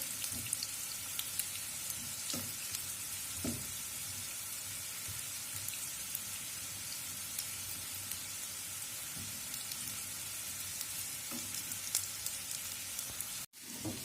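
Potatoes sizzle steadily in a hot pan, a constant close crackling with occasional louder pops and a brief clunk near the end.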